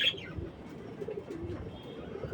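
Pigeons at a feeding spot among their nest boxes give soft, low cooing under faint chirps, a steady murmur of several birds close by with no talk.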